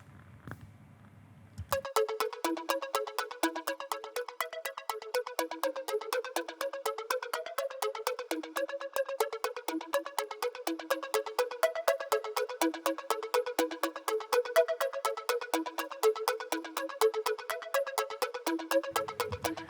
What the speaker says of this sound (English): It's just kind of warping the pitch a little bit